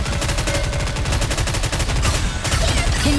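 Sustained machine-gun fire in the anime shooter Goddess of Victory NIKKE, a dense, loud burst of rapid shots that continues unbroken for several seconds, with no voices.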